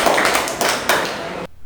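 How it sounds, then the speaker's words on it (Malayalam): Short burst of audience applause for Kalhara at a school event, close and fairly loud clapping lasting about a second and a half before cutting off abruptly. "ഒരു നല്ല കൈയടി കൊടുത്തേ കൽഹാര."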